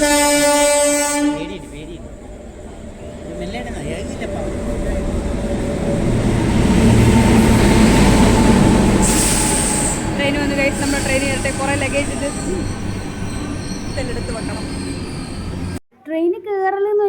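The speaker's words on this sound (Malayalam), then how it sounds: "ട്രെയിൻ വരുന്നു ട്രെയിൻ വരുന്നു ട്രെയിൻ വരുന്നുണ്ടേ" A train passes close by with a loud horn blast at the start, then a heavy rolling roar with wheel clatter and squeal that builds and fades. Voices are heard near the end.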